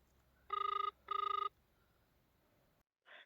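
Two loud electronic telephone ring bursts, each about half a second long and separated by a short pause, sound as an outgoing call is placed. A brief faint chirp follows after a moment of quiet.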